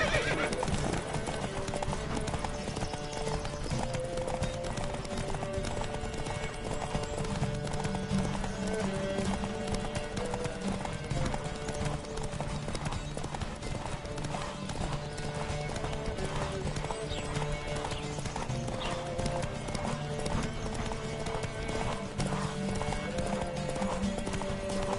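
Galloping horse in The Witcher 3 video game, a steady drumming clip-clop of hooves running continuously at an even pace, with game sounds layered in and occasional voices.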